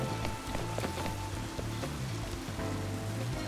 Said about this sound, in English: I hear noise like it's raining.